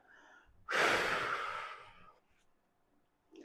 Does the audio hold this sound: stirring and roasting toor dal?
no